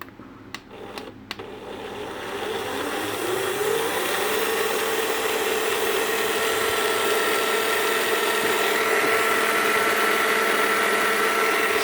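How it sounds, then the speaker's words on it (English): A few sharp clicks, then an RC car's steering mechanism whirs up into a steady, rising ratcheting gear drone that runs continuously and loudly to the end. "it gets full steering and the wheels go in the correct direction"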